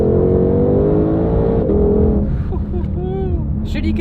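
A Saleen Mustang with its engine revving loud and close, a steady droning exhaust note that dips near the middle then swells again, with voices talking over it.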